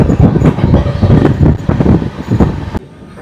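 A passenger train runs through hilly country near Jeypore, Odisha, its carriages rumbling loudly and close with rhythmic wheel clatter over rail joints, fading a little before the sound drops off at the end.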